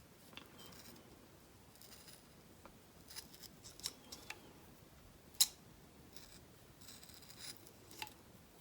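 Scissors snipping felt or paper for a preschool pinecone bunny Easter craft, scattered quiet clicks and snips at irregular intervals, one sharper snip standing out, close and soft.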